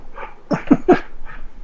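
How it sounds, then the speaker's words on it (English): An excited dog snorts, huffs and gives soft whimpering yips close by in a quick cluster of short bursts while playing. "my dog's got the zoomies"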